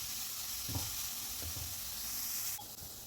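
Grated carrot roasting in a pan for carrot payasam gives a steady close sizzle with a few soft stirring scrapes, the hiss dropping away near the end.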